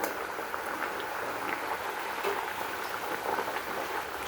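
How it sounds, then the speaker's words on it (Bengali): Fish curry broth with green chilies comes to a steady rolling boil in the pot, a dense, even bubbling hiss that runs unbroken throughout, with no voices. "তরকারির ঝোলটা আমার বলক চলে আসছে।"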